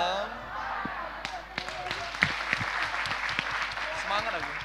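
A church congregation claps together in a spirit clap, the sharp hand-claps sounding unevenly against a low hum while a voice talks over them.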